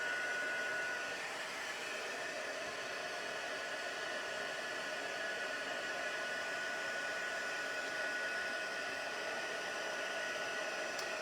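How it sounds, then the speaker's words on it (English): A heat tool blows hot air to melt embossing powder, a continuous loud, even whooshing roar that holds steady without pause from start to finish. "This heat tool is extremely hot, so you want to be careful."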